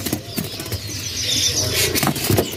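Cabiro birds at the Pramuka bird market in Jakarta flutter and flap their wings in a cage, a steady soft rustle of wingbeats lasting a few seconds with no talk over it.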